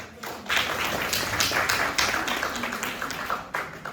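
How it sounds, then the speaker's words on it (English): An audience applauds the speakers at a competition, a dense, sustained burst of many hands clapping that stays loud and even throughout. "let's applaud every speaker for their dedication and effort"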